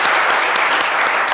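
A live studio audience gives a brief, loud burst of dense clapping to welcome a guest musician on a French talk show. The applause is close and continuous, with no voices.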